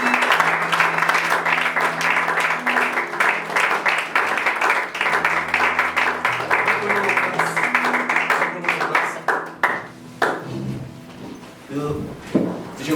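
A church congregation applauding, dense steady clapping from many hands that thins and fades toward the end, with voices and cheering mixed in.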